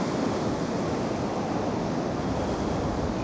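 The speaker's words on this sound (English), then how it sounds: "It's certainly amazing watching the high tides in Blackpool." High-tide waves surge steadily along the Blackpool shore in freezing conditions, a continuous loud wash of surf with wind-like roar and no pauses or voices.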